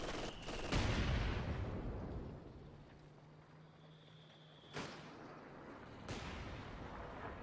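Land mattress rocket artillery firing in a World War II real-time strategy game, a loud whooshing launch that rumbles away, followed by a couple of sharper distant blasts and a faint tone.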